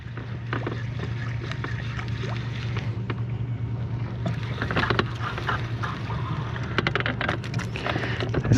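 A boat's trolling motor on Lake Guntersville hums steadily at a constant low pitch, with faint water lapping and light knocks on the hull, all at a moderate, even level with no talking.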